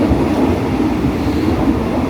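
A sleeper train running from Bangkok to Chiang Mai, heard from inside the carriage as a loud, steady, dense rumble with continuous low clatter and no pauses or voices.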